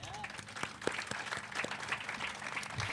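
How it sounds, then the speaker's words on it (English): Crowd applause at a grand opening ceremony for a housing development, a dense, moderately distant patter of many hands clapping, steady throughout with a voice speaking over it. "let's give a round of applause for our speakers today"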